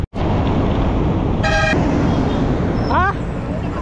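Loud roadside traffic rumbles close by while a car horn toots briefly, then another horn gives a short falling honk, with the steady roar of passing vehicles throughout.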